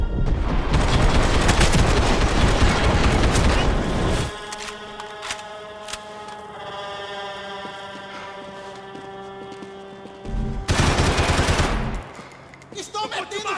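Heavy automatic gunfire from a Max Payne 3 shootout, with loud sustained bursts of rapid shots at the start and a second close, dense volley near the end, separated by a quieter stretch.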